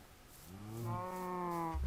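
A cow in the Minecraft video game moos once, a long low, rising tonal call that swells to loud and holds steady for over a second, heard alone with no talk.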